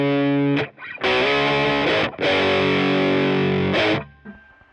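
Electric guitar through a Laney LV300 Twin amp with reverb: loud distorted chords ring out in several sustained bursts with brief gaps, the reverb tail fading at the end.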